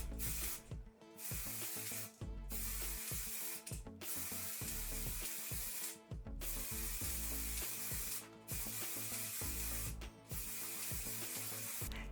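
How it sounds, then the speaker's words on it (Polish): Gold edible food-colouring spray hisses onto the edge of a cake in several long, close bursts separated by short pauses. "Brzeg tortu ozdobiłam złotym barwnikiem spożywczym w sprayu."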